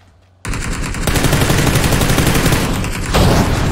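Rapid automatic gunfire sprays in a video game, a loud, continuous burst of tightly spaced shots that starts abruptly after a brief quiet moment and keeps hammering without pause to the end.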